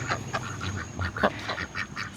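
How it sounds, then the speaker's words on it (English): Ducks quack in a short series of repeated calls, a few evenly spaced over two seconds, moderately close against a low background rumble of traffic. "these ducks are so cute."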